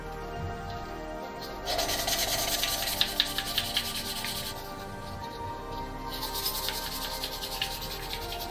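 Valves on a Honda CB450 engine are lapped, making a continuous gritty rubbing and grinding that swells and eases in back-and-forth strokes, close and fairly quiet with no talk.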